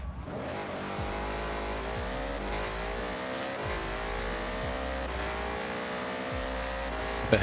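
Ford Mustang racing in Forza Horizon 6, its engine revving up repeatedly and dropping with each gearshift, a steady sawtooth climb of pitch, loud and close with no talking.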